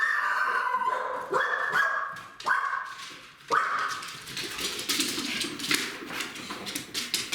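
A dog barks several times in quick, uneven bursts, close and loud, followed by whimpering and scuffling noises.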